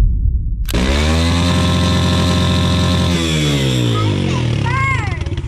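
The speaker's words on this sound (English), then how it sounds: "Man, you really like revving that engine" A 110cc pit bike engine fitted with a big bore kit starts up and revs hard and loud nearby, its pitch climbing and falling in repeated surges that run without a break to the end.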